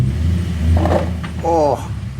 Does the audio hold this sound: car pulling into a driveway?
yes